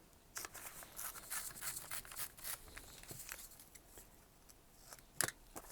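Paper torn by hand for a handmade steampunk journal, a run of close, dry ripping and crinkling bursts with a sharper snap near the end, nearby and fairly quiet.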